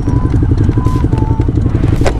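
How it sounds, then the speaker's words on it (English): A Ducati Diavel motorcycle ridden on a dirt track at a V-twin bike festival, its engine loud and close with a rapid, throbbing pulse and some clatter, plus a faint brief voice near the end. "Well, this is the Ducati Diavel on dirt."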